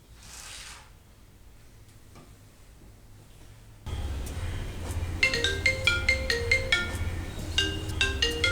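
After a quiet stretch, a phone's melodic ringtone starts, repeating bright plucky notes in a regular rhythm over a low hum, fairly close.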